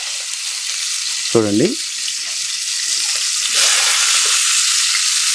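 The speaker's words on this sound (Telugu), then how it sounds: "కట్ చేసుకున్న ఉల్లిపాయలు ఆ నూనెలో వేసేస్తున్నా" Chopped thin onions frying in hot oil for village-style chicken curry, a steady close hiss of sizzling with a brief spoken word near the start.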